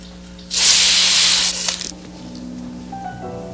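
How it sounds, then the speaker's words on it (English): A loud, steady hiss of an aerosol spray paint can blasts for about a second, then cuts off, leaving quiet room tone and a faint hum. "You're supposed to spray in a circular motion."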